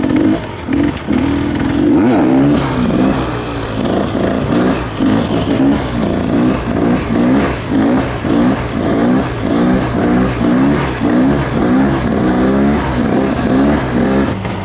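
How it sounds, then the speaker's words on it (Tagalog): A Reiju 300 MR motorcycle engine revs close by in repeated throttle blips, a loud rough mid-pitched roar rising and falling in a steady rhythm, with no talking. "Ganda tong motor na to."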